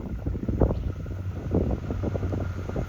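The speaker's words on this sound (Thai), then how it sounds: "ลมมันพัดไปฝั่งนู้นไม่ได้ยินเสียงรถ" Wind buffets the microphone in low, rumbling gusts beside a railway at Bua Yai, Thailand, continuous and fairly loud, with no one talking.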